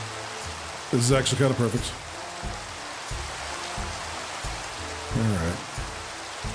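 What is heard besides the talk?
rain falling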